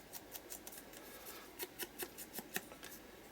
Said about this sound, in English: I've fussy cut these out just with a small pair of scissors